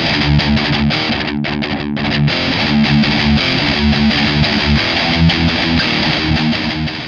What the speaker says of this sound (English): Gain sets the amount of distortion.